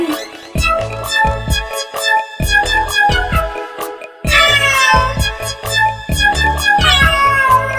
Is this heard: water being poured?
no